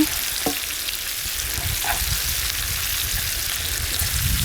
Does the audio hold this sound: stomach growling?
no